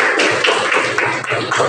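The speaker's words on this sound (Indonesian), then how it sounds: "Oke, tepuk tangan untuk kita semua." Short burst of group hand clapping in a classroom at a morning lesson, rhythmic sharp claps close by for under two seconds.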